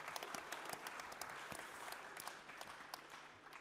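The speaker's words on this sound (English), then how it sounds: "we'll give him a round of applause as well" Audience applause at a boxing event, steady dense clapping throughout at moderate level with no talk over it.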